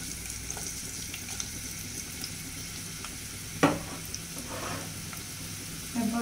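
Onions frying in a pan for a hill-style small-fish chorchori with sour leaves: a steady close sizzle with a sharp burst as the onions go in and light stirring scrapes.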